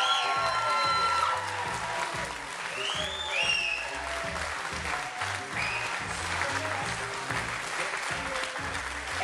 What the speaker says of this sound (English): please put your hands together for the best-looking couple in New England, Mr. and Mrs. Aaron and Jason Brashear.